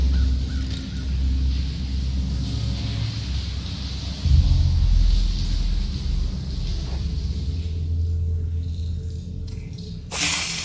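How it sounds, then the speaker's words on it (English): A crow cawing in the video game The Lord of the Rings: Gollum, a few harsh calls set against a steady wind-like ambient rumble, with no talk over them. "nasty bird. It watches us. It spies on us."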